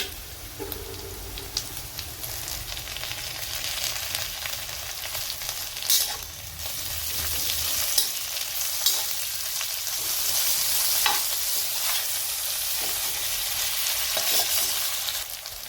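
Tomatoes tipped into a pan of fried onion and chili, hissing and sizzling steadily with occasional stirring scrapes, close and without voices.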